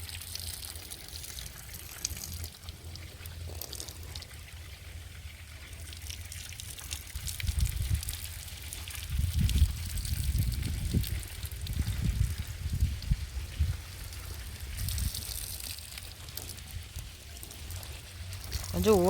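Water is poured slowly and steadily over something being soaked and washed, a soft continuous trickle and splash that swells through the middle and comes and goes, with a low background hum.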